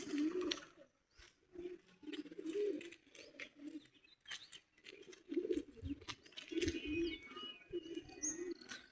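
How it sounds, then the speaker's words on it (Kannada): Birds calling around Suvarnavathi Dam, repeated cooing and chirping phrases in bursts throughout, moderately close with an outdoor hiss between calls. "ಬರ್ಡ್ಸ್ದು ಸೌಂಡ್ಸ್ ಎಲ್ಲ ಕೇಳ್ಬೋದು ಬೇಕಾದ್ರೆ ನೀವು"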